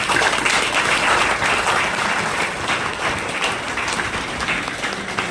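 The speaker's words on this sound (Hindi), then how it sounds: "एक बार इन सभी सीनियर्स के लिए जोरदार तालियां बजा दें।" Loud, dense applause from an audience at a celebration function, a steady wash of clapping honoring seniors that holds for several seconds and eases slightly toward the end.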